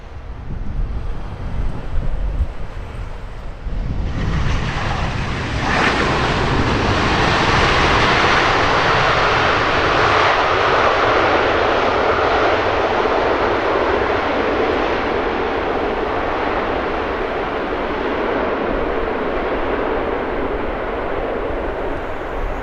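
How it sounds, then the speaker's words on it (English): A large Airbus A380 jet coming in to land at Heathrow Airport, heard as a loud, sustained engine roar that swells after the first few seconds and holds steady with broadband rush and some wind buffeting the microphone. "A380 arriving in some nice afternoon sun"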